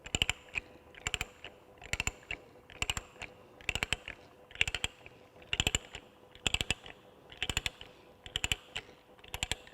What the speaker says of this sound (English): So I insert my die stock there. Then to start, you can hear the ratchet action.